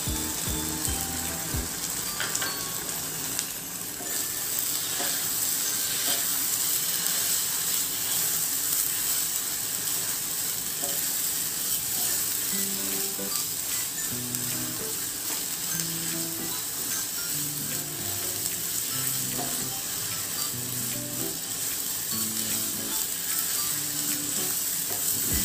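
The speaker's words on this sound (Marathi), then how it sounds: "हे सर्व मिश्रण आपल्याला साधारण 10 मिनिटे परतून घ्यायचे आहे" Vegetable mixture with tomato sautéing in a pan, a steady close sizzle and frying hiss throughout with occasional stirring scrapes, no voices.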